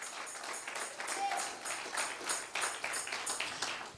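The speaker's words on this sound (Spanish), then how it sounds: "Dale ese aplauso al Rey de Reyes." A church congregation applauds during a sermon, a steady wash of clapping that rises and falls for several seconds, with a preacher's voice faintly mixed in beneath it.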